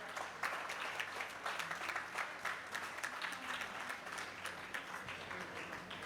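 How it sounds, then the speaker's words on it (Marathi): A crowd claps for students at an HSSC and SSC felicitation programme in Porvorim, Goa: a soft, sustained patter of many hands with a gently pulsing rhythm, heard from a distance. "जोरात टाळी जावपाक जाय"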